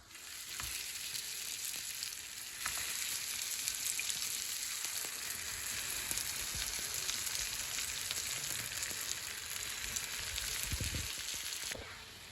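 Turon, banana rolls filled with jackfruit, frying in hot oil with a steady, dense sizzle and crackle throughout, close and continuous, with occasional soft knocks of handling.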